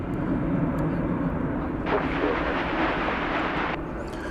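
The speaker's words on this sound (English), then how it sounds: "There goes Finnair." A Finnair airliner passes at DFW Airport as a steady, moderately distant engine roar, with a brighter rushing swell in the middle of the pass before it eases back. No one talks.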